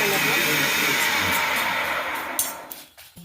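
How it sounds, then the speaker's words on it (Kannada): A mixer grinder grinding cumin and coconut whirs loudly with a steady motor drone, then slows and winds down near the end. "ಇದನ್ನೀಗ ಮಿಕ್ಸಿಯಲ್ಲಿ ಹರ್ಕೊಂಬರ್ತೀವಿ"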